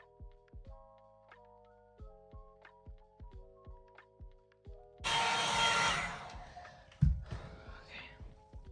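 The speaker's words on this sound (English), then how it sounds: "I'm gonna try to blow dry it" A hair dryer switches on with a loud, steady blowing rush as it dries a wig, cutting in after several seconds of soft music-like tones, followed by a thump and fading airflow.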